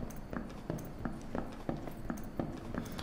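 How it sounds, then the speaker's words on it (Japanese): Pattering footsteps of a figure approaching from behind in the dungeon game Dark and Darker, a quick, even run of soft thuds close by, with faint voices underneath. "ペタペタ足音してる。"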